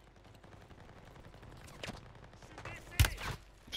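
Video game gunfire rattles in scattered, fairly faint bursts, with one sharper, louder shot near the end, over low background noise.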